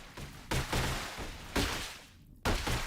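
Turret gunfire in the video game Silica, heavy broadband bursts arriving in several separate volleys across a few seconds, loud and close with brief gaps between them.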